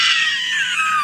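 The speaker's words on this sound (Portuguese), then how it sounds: "Olha o grito da pantera." A panther's scream in the woods around a rural house at night, a loud, sustained shrill cry with a slowly falling pitch, heard alone without talk.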